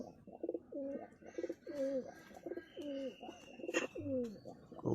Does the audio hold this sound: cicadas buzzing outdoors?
no